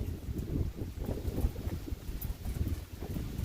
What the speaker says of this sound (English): The wind's actually changed directions now. It's blowing in on me.